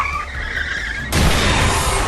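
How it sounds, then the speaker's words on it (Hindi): A car skids after hard braking, a loud tyre screech that bursts in abruptly partway through and holds harsh and close to the end. "ब्रेक लगने के बाद भी कार फिसल गई और सीधे तालाब में जाकर पलट गई"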